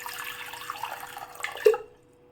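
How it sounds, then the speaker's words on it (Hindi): Water is poured into a cooking pan in a home kitchen, a soft, steady trickling stream for about two seconds that ends with a brief splash before going quiet. "अगेन ले लिया हमने पैन में हम ऐड करेंगे पानी"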